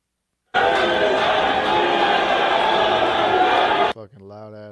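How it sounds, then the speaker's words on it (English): A loud, dense crowd roars and cheers steadily at a boxing weigh-in, holding for several seconds, then cutting off abruptly as a voice begins talking. "Fucking loud ass crowd needs to shut the hell up."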